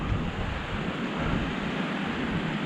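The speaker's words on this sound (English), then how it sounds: "There's a huge waterfall." Huge waterfall near a copper mine, a loud, steady broadband roar of falling water heard close and unbroken throughout.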